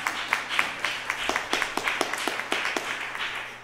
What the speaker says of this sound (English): Oh, clap your hands,